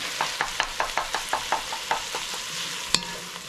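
Onions sizzle steadily in garlic oil in a pot while a spoon scrapes through them in an even rhythm about every quarter second. One sharper knock sounds near the end.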